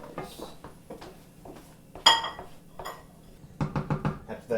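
Cooked eggs being folded into fried rice in a pan, sharp scrapes and clanks of a utensil against metal in short irregular bursts, close and fairly loud, with no talking.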